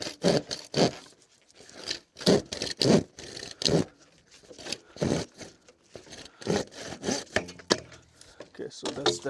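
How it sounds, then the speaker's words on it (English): A hand saw cuts through a rainwater pipe on a building site in a run of loud, rhythmic rasping strokes with brief pauses between bursts, close up and with no talking. "that's the pipe sawn"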